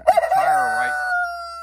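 A chicken on a farm lets out one drawn-out, crowing call, loud and close, with a few sharp clucks at the start and the tone fading out alone at the end.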